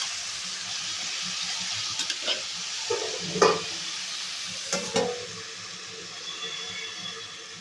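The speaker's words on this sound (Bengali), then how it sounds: "এখানে তরকারি বসিয়ে দিয়েছি, দিয়ে আলু, পটল, সাদা ডাঁটা, ছোট বেগুন দিয়ে একটা তরকারি" A vegetable curry of potato, pointed gourd, white stalks and small eggplant cooks in a pan with a soft, faint sizzle, broken by a few clinks and scrapes of stirring.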